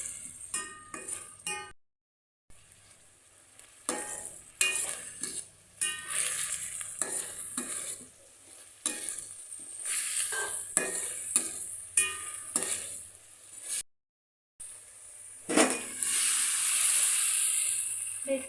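Sambar base frying in a pot before boiled peas go in, with a soft sizzle, a spoon scraping and clinking against the metal in irregular bursts, and brief silent gaps.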